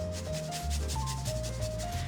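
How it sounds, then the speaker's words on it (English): Garlic rasps against a microplane grater in quick, close scraping strokes over about two seconds, with no speech. "if you've got one of these microplane graters, then you can just go straight in and grate it straight in"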